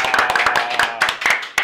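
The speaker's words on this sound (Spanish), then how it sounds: "vamos a recibirlo con un fuerte aplauso" A studio audience claps to welcome a guest, a short burst of sharp, irregular hand claps that is loud and close, with some voices mixed in.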